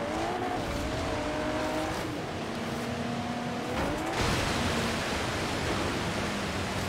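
Racing game car under hard driving, engine whining through rising and falling gear changes with tires squealing through corners, loud and continuous with a louder surge of noise partway through.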